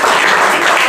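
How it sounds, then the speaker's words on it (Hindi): A room of students applauds a girl for a correct answer at a school maths competition in Lakhimpur, a short dense burst of clapping, fairly loud and steady throughout. "तो बहुत बढ़िया, बिटिया के लिए तालियां।"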